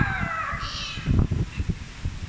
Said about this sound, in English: Please don't go inside with us, kitty.